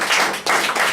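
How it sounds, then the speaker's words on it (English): Short burst of audience clapping at a body language training session, a brief dense patter of hands with a momentary dip before resuming, loud and close. "Can I have a clap for that?"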